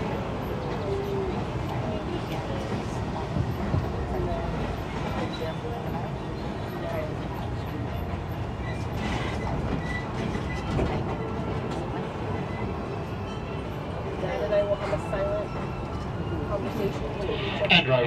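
A Disneyland tram rolls along with a continuous low rumble and rattle, wheels clattering steadily under an amplified safety announcement from an onboard speaker.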